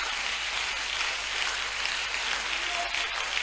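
A crowd at an evening evangelism crusade in Tiassalé applauds and cheers, a dense, steady wash of clapping and voices that holds evenly from start to finish.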